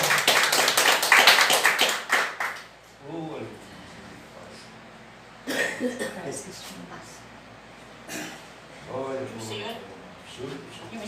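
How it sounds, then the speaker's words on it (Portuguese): Church congregation clapping in a dense burst during a worship service, fading after a couple of seconds, followed by scattered quieter claps between stretches of someone speaking. "as palmas são para o Senhor Jesus"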